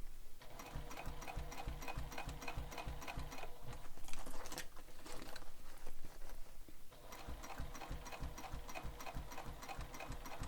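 A sewing machine stitches all the way around a Manhattan bag with a fast, even, rhythmic chatter that carries steadily through the whole stretch, close and alone with no talking.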